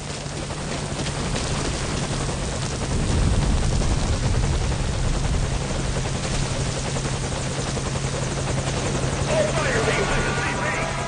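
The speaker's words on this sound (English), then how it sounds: "Okay, the enemy has spotted our helicopter, so let's defeat them before we get shot down." Helicopter in the video game Metal Gear Solid 5 Ground Zeroes during a night mission, a steady loud rotor drone with a constant low hum filling the whole stretch, with talk over it.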